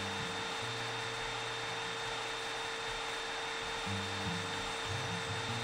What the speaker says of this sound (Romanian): Cred că avem nevoie de aspirator în prima fază.